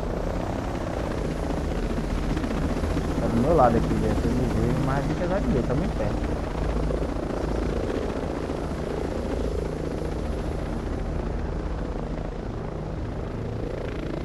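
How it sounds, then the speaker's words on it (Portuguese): Helicopter approaching in the video game Ghost Recon Breakpoint, a steady rotor drone running under the whole stretch while players talk over it. "Tem o helicóptero chegando."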